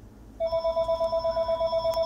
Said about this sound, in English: Apologize for that phone in the background.